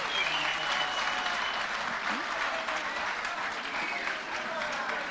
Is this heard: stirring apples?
no